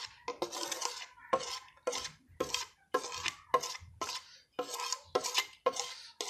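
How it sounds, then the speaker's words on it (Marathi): A hair pack paste of katha and amla powder is stirred in a bowl, giving repeated scraping, clinking strokes in a steady rhythm with brief pauses between them, close and moderately loud, with no talking. "तर ते सर्व मिश्रण आपण एकत्रित याच्यामध्ये मिक्स करून घेऊया."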